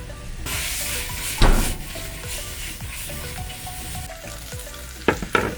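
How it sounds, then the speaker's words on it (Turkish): Rice sautéed in butter with mushrooms in a pan, sizzling and frying steadily with occasional sharp stirring scrapes and knocks, close and fairly loud with no talk. "Tereyağı ekledim ve şimdi de pirincimi ekledim. Bu şekilde kavuruyorum."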